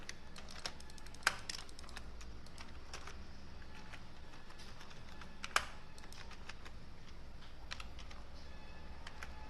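Computer keyboard typing in an Excel spreadsheet, entering roll numbers and names: a steady patter of soft key clicks with a couple of sharper taps, close and quiet, with no talking.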